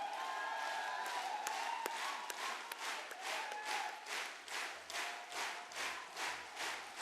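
A crowd claps at a network marketing training program celebration, quiet and distant, with steady applause that settles into rhythmic unison clapping.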